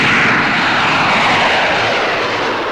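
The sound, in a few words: jet-propelled P-80 Shooting Star aircraft in 1945-46 newsreel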